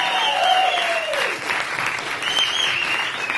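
A live audience welcomes the performers with loud, sustained applause and whistles in an acoustic performance room, steady clapping throughout, with a voice briefly audible over it.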